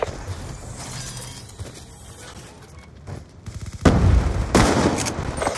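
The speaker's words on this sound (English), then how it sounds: "Sentry gun ready for deployment." Sentry gun firing in the video game Black Ops 2, bursts of rapid gunfire amid battle noise, growing louder and denser toward the end.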